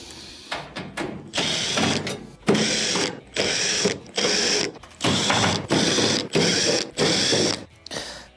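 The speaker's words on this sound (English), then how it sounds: "There are multiple Phillips screws around it that'll have to be taken out." A power driver repeatedly whirs in short bursts, about nine in a row with brief gaps, backing Phillips screws out of an oven's rear panel at close range.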